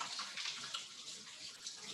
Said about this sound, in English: I'm going to just wash this knife. Do that, wash my hands again.